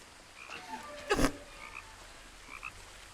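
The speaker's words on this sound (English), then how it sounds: "that frog is ridiculously loud." A frog croaks in the game What Remains of Edith Finch, a few short, fairly loud calls over a faint ambient background, with one stronger croak in the middle.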